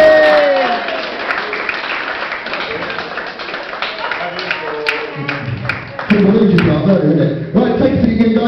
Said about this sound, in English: Everyone give them a big round of applause for the back.